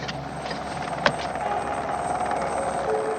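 A helicopter flies nearby with a constant rotor and engine roar, loud and steady for a few seconds, with a brief sharp knock partway through.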